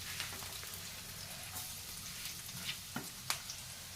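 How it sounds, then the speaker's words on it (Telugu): Onions and green chillies frying in oil for egg fried rice, a quiet continuous sizzle with a few sharper crackles and pops near the end. "ఇందులో ఆయిల్ వేసుకున్నాం కదా, బాగా వేపిస్తున్నాం"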